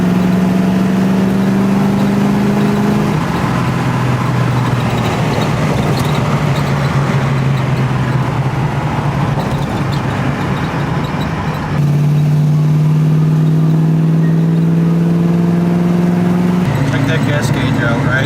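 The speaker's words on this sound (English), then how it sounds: "In the meantime, I'm going to go for a drive." A car engine hums steadily while driving, holding a low drone with a few gear-shift pitch changes, loud and close throughout.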